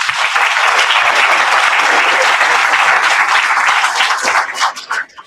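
Dense, loud applause from a large crowd at a community gathering in Coopers Pen, Jamaica, sustained steadily and then thinning out in the last second.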